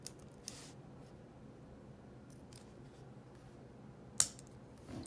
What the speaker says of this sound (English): now to put out more lead, you get that half click.